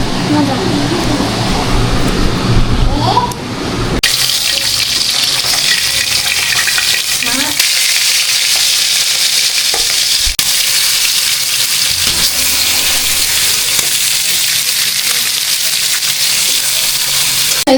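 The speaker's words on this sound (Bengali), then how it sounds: "এর জন্য যে মশলা বসাচ্ছি মশলাতে আছে হচ্ছে পাঁচ ফোড়ন আদা আর জিরা আর হচ্ছে কাঁচামরিচ হলুদ লবণ দিয়ে এখন একটু কষাচ্ছি" Bottle gourd curry spices – panch phoron, ginger, cumin, green chilli, turmeric and salt – sizzling steadily in a hot pan while being stirred, with a louder burst as the spices hit the oil, and a voice talking faintly in the background.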